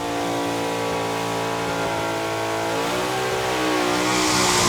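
A Nissan R32 engine revs hard during a burnout, holding a loud, sustained high-rpm roar that climbs steadily in pitch, heavy tire hiss building toward the end, with no talk over it.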